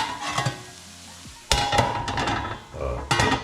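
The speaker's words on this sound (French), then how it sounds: "Et je remets le couvercle." A metal lid is set back on a cooking pot of duck legs confiting in fat on low heat. Clanks and knocks land over a steady close sizzle, with no voices.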